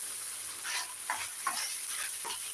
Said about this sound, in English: we're going to just stir fry this